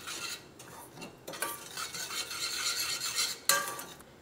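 A spoon stirs sugar and water in a pan for caramel, heard as a few faint, close scraping swirls with brief pauses and no talk.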